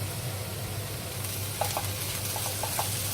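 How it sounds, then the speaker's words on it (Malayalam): Onions sautéing in a pan over a raised flame, a soft steady sizzle with a few light clicks of stirring toward the end, close and fairly quiet, no voices. "കുറച്ചുകൂടെ തീ കൂട്ടി വെച്ചിട്ട് ഇത് നന്നായിട്ടൊന്ന് വാട്ടിയെടുക്കണം."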